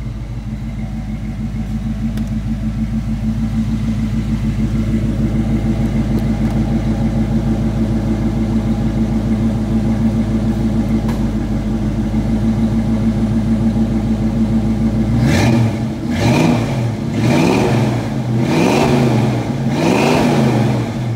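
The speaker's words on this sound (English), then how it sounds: "I'll let you hear it running. It's got new exhaust running." A 1973 Ford Bronco Ranger with new exhaust, idling with a steady low rumble for about fifteen seconds, then revved hard several times in quick surges, loud and close.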